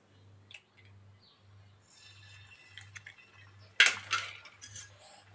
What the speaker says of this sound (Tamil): ரெண்டு எக்கை நான் உடச்சி ஊற்றுறேன்.